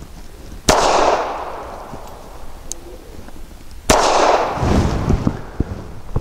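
Two loud, sharp bangs about three seconds apart from a Springfield Armory 911 .380 pistol firing Winchester White Box 95-grain round-nose ammunition, each followed by a ringing, fading tail.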